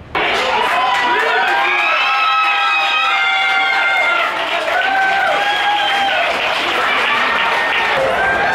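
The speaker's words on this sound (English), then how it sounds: "So France just beat Belgium, as you can probably hear by the loud screams." A crowd erupts in loud, sustained screaming and cheering after France beats Belgium in a football match, with shrill voices and whistles carrying steadily throughout from nearby.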